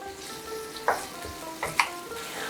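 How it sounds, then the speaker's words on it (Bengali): Raw mango pieces with turmeric simmer in a pan over medium-low flame, giving a soft, quiet sizzle with a few brief stirring clinks against the pan. "মিডিয়াম টু লো ফ্লেমে 2 মিনিট আমি আমটা সেদ্ধ হতে দেব"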